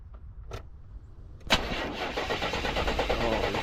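A 1977 Buick LeSabre engine, started after sitting 18 years, cranks briefly and then catches with a sudden loud burst before settling into a steady, rough running roar up close.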